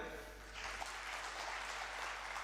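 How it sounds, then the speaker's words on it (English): Audience applause at a wealth and happiness seminar event, a steady broadband wash of clapping that rises after a brief quieter start and continues evenly throughout, fairly faint and distant in a large hall. "A big round of applause for them."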